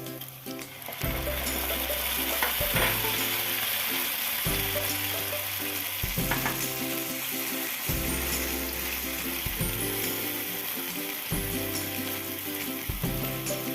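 Onions sizzle steadily in a hot pan, broken by regular stirring strokes every second or so; continuous frying noise with no talking.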